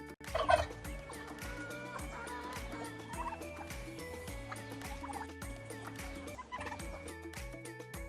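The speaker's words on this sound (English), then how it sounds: "7 turkeys." A flock of farm turkeys gobbles steadily, overlapping rapid warbling calls close by with a louder burst near the start, continuing without pause throughout.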